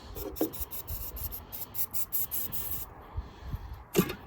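A string of short, sharp hissing spurts from a can of starting spray, close up, repeating in quick succession before stopping, followed by a faint clack.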